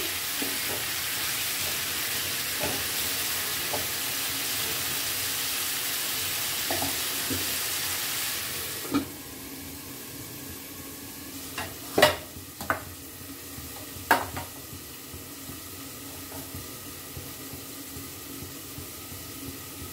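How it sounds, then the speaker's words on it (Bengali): Eggplant and other vegetables sizzle steadily in a hot pan for Malabar spinach prawn curry. The frying hiss drops partway through, and then a spatula scrapes and clacks against the pan a few times while stirring. "একবার নেড়ে দিলাম, কারণ বেগুনগুলো আবার ভাজা হওয়ার দরকার"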